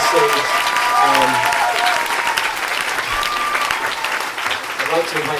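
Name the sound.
applause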